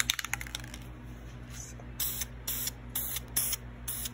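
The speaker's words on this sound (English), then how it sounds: "I just spray in short bursts." A spray paint can used on wooden earring backs hisses in several short bursts, roughly one every half second. The bursts are fairly quiet against a low steady hum, with a few small clicks just before them and no talking.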